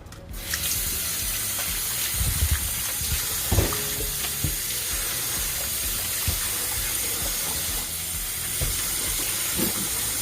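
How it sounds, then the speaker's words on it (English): Peeled cassava is washed in running water, with a constant rushing hiss from the tap and scattered nearby splashes and knocks as the pieces are handled. "Now I'm gonna wash my cassava."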